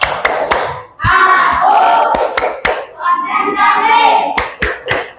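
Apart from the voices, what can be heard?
class doing a rhythmic concentration clapping routine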